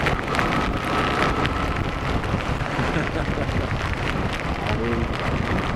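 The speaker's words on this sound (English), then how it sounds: "Torrential rain." Torrential rain at the seaside with gusting wind roars steadily in a dense, loud wash of noise buffeting the microphone, and a faint voice is briefly audible beneath it.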